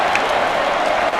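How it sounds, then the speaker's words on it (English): Football fans cheer inside a stadium at a Boston College Eagles versus NC State Wolfpack college game, a broad roar of crowd noise and applause that holds steady and distant. "They're all cheering to lead the offense on the field and go for it on 4th down."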